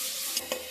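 Tomatoes with chopped carrots and green peas frying in a pan for homemade baby food, a brief close sizzle with a couple of soft stirring scrapes.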